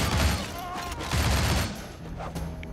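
Bursts of gunfire from the player's weapon in the action game Shank, rapid loud shots in clusters with mechanical clatter, briefly easing off toward the end.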